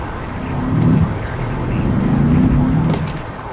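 An F-14 jet's catapult launch in a flight simulator game: a loud, steady roaring rumble that swells and holds for several seconds, with a brief hiss near the end.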